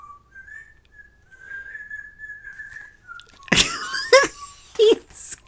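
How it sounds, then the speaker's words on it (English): A man whistles a tune in a long, steady melodic line, fairly faint and in the background, before louder bursts of laughter and voices break in near the end. "Can you guys hear that whistling? He's just like song after song just whistling."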